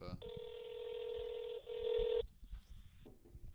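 A telephone dials a call with a long steady tone and a short follow-up tone, loud and close, with brief voices murmuring underneath.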